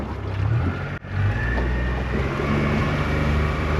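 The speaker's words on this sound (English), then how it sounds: "Wow, that engine is quiet." A small tinny boat's engine runs quietly at sea, a low steady hum with a brief dip near the start, no voices over it.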